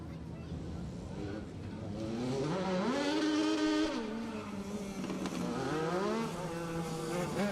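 Legend race cars roaring around the Riverhead Raceway oval during a heat race, their engine notes rising and falling steadily as they pass, with an announcer talking over the track noise.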